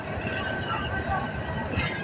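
A train rolls slowly along the Khilgaon rail line toward Kamalapur in Dhaka, a steady rumble of wheels on track with faint squeal, heard from nearby with voices mixed in.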